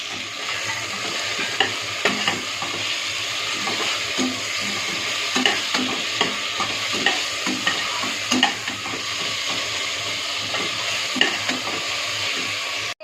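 Onions sizzle and fry in a pan for chicken gravy, with steady hissing and periodic scraping stirs throughout, no talking.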